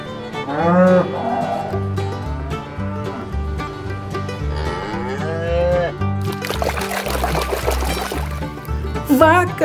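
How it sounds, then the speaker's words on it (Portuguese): A cow moos several times in long, drawn-out lowing calls, loud and close, with a burst of splashy noise near the end. "Vaca."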